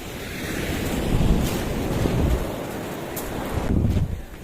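Gusty sea wind buffets the microphone while surf rolls in steadily at Kochi, Japan, the waves swelling and easing in broad washes of noise.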